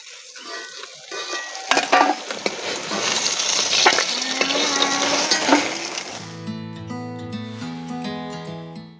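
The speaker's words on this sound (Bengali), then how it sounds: "মাছগুলো আমরা উল্টে পাল্টে লাল লাল করে ভেজে নেব।" Rohu fish frying in oil in a wok, a steady loud sizzle with scattered clinks and scrapes of a utensil turning the pieces, giving way near the end to a different, more tonal sound.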